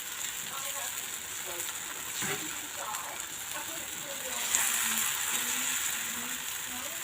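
Lentil wraps cook in a pan over medium heat with a continuous crackling sizzle that swells a little midway. A voice speaks faintly underneath.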